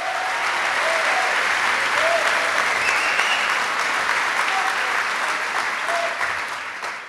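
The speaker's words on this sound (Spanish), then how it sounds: "si es aplauso para Dios, déselo fuerte." A church congregation claps loudly and steadily for God, a dense, sustained wash of applause filling the room for the full stretch with faint cheering tones mixed in, easing slightly at the very end.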